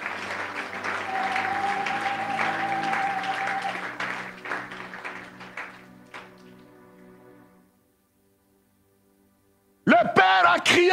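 Church congregation applauding and cheering to God during a French-language service, loud sustained clapping and crowd noise that tapers off into near silence before a voice breaks in near the end.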